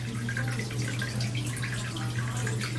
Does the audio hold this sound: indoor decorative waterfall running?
yes